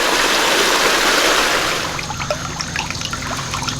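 Water surges through a Gold Hog Piglet gold sluice in a loud, steady broadband rush, easing after a couple of seconds into a lighter, bubbling trickle with scattered splashes.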